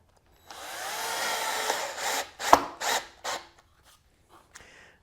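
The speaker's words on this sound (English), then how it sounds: "bores out the wood to match the angle of the screw" A countersink bit bores into wood to seat a screw for a DIY airbrush turntable build: a sustained whirring grind for about two seconds, then several short, sharp bursts that taper off into near silence.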